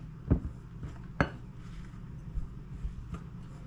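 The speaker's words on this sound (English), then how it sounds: "We're gonna mix this well. Combine it in here." A utensil knocks against a bowl while plantain bake ingredients are mixed. Two sharp clinks stand out, followed by softer scattered taps over low background noise.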